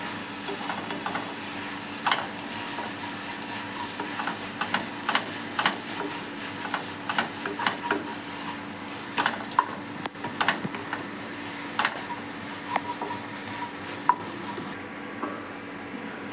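Jute leaves frying in a pan, a steady sizzle with repeated scraping stirs of a spatula at irregular intervals, close and clear with no talking.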